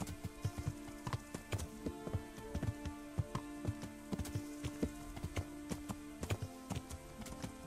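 Horse hooves clip-clop steadily along a path in the medieval game Kingdom Come: Deliverance on a warm summer day, a close, even walking rhythm of crisp hoof strikes that continues without any talking.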